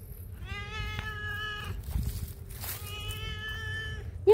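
A cat in an abandoned building meows twice, each a drawn-out, tonal cry with a short pause between, heard close over a low background hum.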